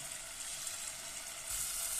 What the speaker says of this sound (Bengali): রসুনটা ভাজা হয়ে গেছে, আমি দেখেন টমেটো সসটা দিয়ে নিতেছি